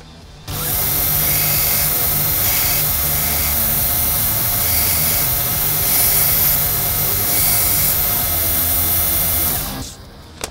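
Belt grinder grinding a 1095 steel recurve knife blade, a loud steady abrasive whine running for about ten seconds with slight surges as the blade is pressed in, then cutting off abruptly.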